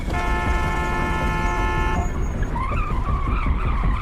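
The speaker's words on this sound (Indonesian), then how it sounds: "menekan tombol klakson dengan sangat kencang dan pergi begitu saja sambil menekan klaksonnya kembali" A car horn blares in a long, steady blast for about two seconds in stalled traffic, followed by road and engine noise with a fainter, wavering tone.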